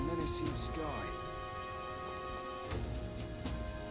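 Rain falling in the fantasy video game Metaphor: ReFantazio, a steady soft wash heard under game tones and music, with a voice speaking over it.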